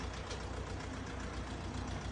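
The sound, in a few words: tractor engine running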